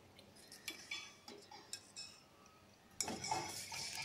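A spoon scrapes and clinks against a pan while ragi milk porridge is stirred, at first in soft intermittent strokes, then a denser continuous scraping swirl close by, with no talking.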